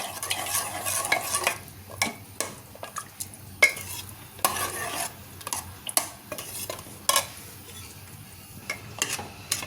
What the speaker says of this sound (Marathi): हे छान एकत्र मिक्स करून घ्यायचं आहे आपल्याला.